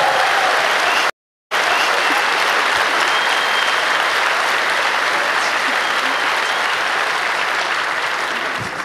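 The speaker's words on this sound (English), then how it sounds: "could I get a big round of applause for everybody who was in the lightning talks?" A conference audience at the 28c3 Chaos Communication Congress gives a big round of applause for the lightning talk speakers. Dense, sustained clapping fills the hall after a brief gap and continues steadily to the end.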